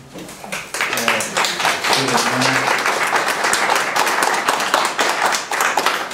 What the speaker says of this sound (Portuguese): quem quiser bater palmas, bate em qualquer momento